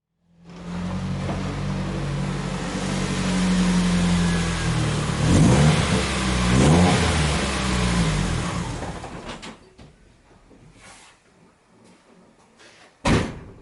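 A Nissan Silvia S13 with a swapped SR20 engine and manual conversion runs and revs up through rising and falling sweeps, loud and close, before the engine cuts and a sharp door slam lands near the end.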